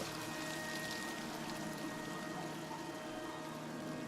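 Continuous water flow in the game Dear Esther, a steady broadband rush with a faint tonal hum beneath, even and unbroken throughout.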